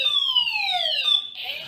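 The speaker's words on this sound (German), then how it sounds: "Wenn wirklich mal was brennt, man kann sich sicher sein, man hört den Alarm." A building fire alarm sounds during a scheduled drill: a sweeping electronic siren tone falls in pitch for over a second, then breaks into a brief burst of noise, moderately loud.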